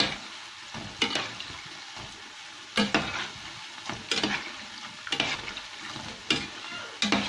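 Zalabia dough frying in hot oil and being stirred, with a steady sizzle broken by stirring strokes and splashes about once a second, close and moderately loud.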